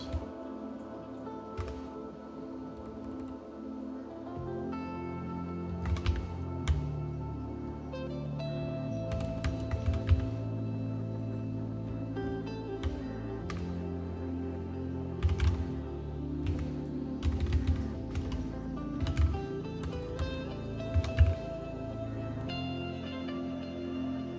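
Someone types on a computer keyboard while working in a game editor, producing close, irregular bursts of key clicks over a steady background hum with long pauses between flurries.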